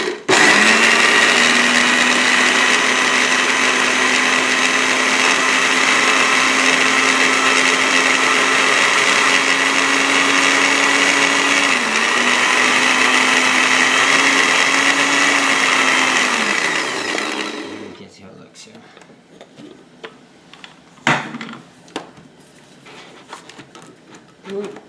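A blender whirs loudly and steadily for about seventeen seconds blending vegan salmon salad dressing with basil and rice vinegar, with a slight pitch dip midway, then cuts off, leaving quiet kitchen clatter.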